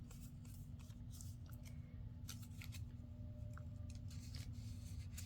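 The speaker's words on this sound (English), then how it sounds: "I'll just trim this little bottom piece off." Scissors trim a small bottom piece off in a series of quiet, crisp snips at an uneven pace, close by over a steady low hum, with no talking.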